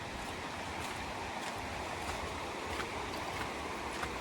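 A river runs near a campsite at Lightning Lake in Manning Park, a constant soft rushing wash of flowing water with no voices, steady and unbroken throughout.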